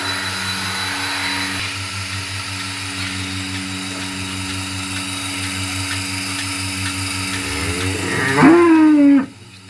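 A steady mechanical drone runs throughout morning milking, then a cow lets out one loud, drawn-out moo near the end.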